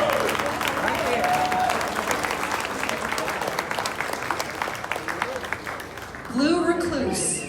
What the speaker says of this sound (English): All right, one more round of applause for Dennis and that awesome education.